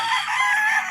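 A rooster crows loudly and close by, one strained, drawn-out call lasting the whole moment, with no talking.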